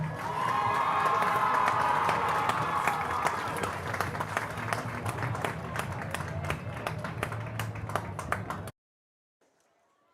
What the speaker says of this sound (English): Please join me in giving another round of applause to our 2025 royalty and our entire homecoming